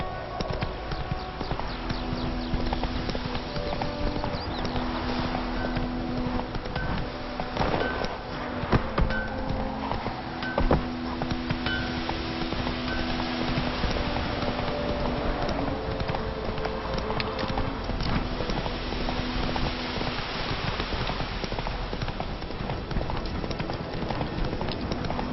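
Roach, the horse in The Witcher 3, gallops steadily in rhythmic hoofbeats over a continuous game soundscape with buzzing insects and ambient tones, with occasional talk.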